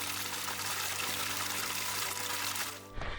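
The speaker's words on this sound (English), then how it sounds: "I'm just gonna fill up my water from this stream." Stream water rushes and gurgles steadily as a water bottle is filled from it outdoors on a trail, a loud, continuous close-up flow that cuts off abruptly near the end.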